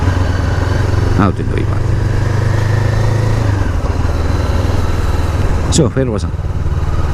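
Honda CBR500R commuter motorcycle with its engine droning steadily and loudly throughout a ride, a constant low hum under continuous talking from the rider.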